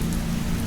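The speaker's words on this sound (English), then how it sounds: "The rain fell heavier now" Heavy rain falls steadily at night in the woods by a campfire, a dense, continuous hiss and patter without breaks, close and fairly loud.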